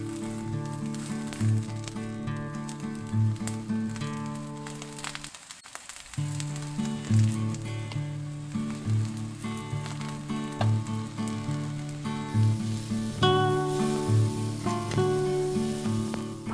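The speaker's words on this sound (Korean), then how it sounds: "버섯은 기름 없이 소금 한 꼬집 뿌려 재빨리 볶아냅니다." Mushrooms stir-fried quickly in a dry pan with a pinch of salt, sizzling steadily and close with a brief lull partway, then continuing with soft rhythmic tapping and stirring, no voices.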